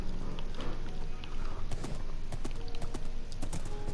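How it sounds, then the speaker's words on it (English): Horse hooves clip-clop at a quick pace in Minecraft, a dense run of soft thuds with faint clicking, moderately loud and steady throughout. "My horse is fast."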